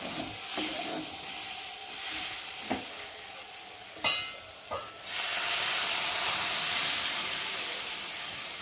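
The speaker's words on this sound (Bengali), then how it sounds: "আর এখন আমি একটু জল দিয়ে দেবো" Lentils and vegetables frying in a pan, with stirring clinks before water goes in around five seconds and sets off a loud, steady hiss and sizzle that continues to the end.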